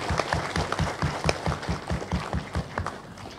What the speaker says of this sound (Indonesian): mari kita beri aplaus yang meriah-meriahnya untuk Prof.